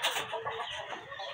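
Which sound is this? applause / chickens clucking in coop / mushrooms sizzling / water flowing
chickens clucking in coop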